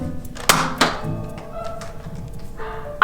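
Shots hitting a target in a backyard game, a few sharp, close thunks at irregular intervals with short ringing tails, separated by quiet rustling.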